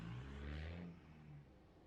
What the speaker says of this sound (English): The old 3-inch exhaust there on the Patrol.